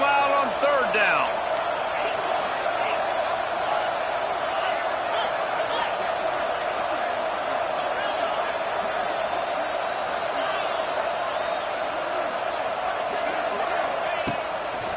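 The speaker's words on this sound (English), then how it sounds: "this crowd bearing down and getting loud on third down" College football stadium crowd at a Rutgers versus Arizona game on third down, a dense sustained roar with a steady tonal hum, loud and continuous, with a few sharp knocks near the start and end.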